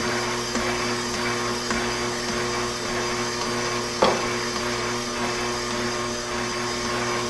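A motorized grinder running on low speed steadily grinds bars of Fels-Naptha soap into laundry powder, a loud, continuous whirring drone with a brief sharper knock partway through and no one talking.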